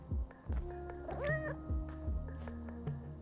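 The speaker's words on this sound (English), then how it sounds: "Where the cat's at?" A single cat meow rises and falls in the middle, with soft thumps and knocks around it, in the PowerWash Simulator 2 video game at a dog grooming salon scene.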